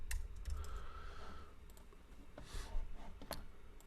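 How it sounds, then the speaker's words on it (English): Typing on a computer keyboard while pulling up a charting site: quiet, irregular clicks and key taps scattered across a few seconds over faint room noise, with no talking. "Let me pull up TradingView. And then let's type in Bitcoin dominance."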